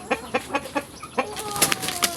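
Chickens scuffle in a fight, with a run of sharp wing-flapping bursts at a regular beat, followed by a denser flurry of flapping and clucking close by.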